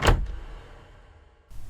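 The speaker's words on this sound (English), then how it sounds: "The door slams behind them on its own." A house door slams shut on its own in a dramatized screenplay scene, one sharp loud bang followed by a decaying room echo and a quiet lull before another burst of sound.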